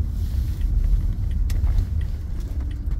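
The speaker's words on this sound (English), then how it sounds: "That was the train going by." A train passes on overhead tracks, heard as a steady, loud low rumble that stays close and continuous throughout.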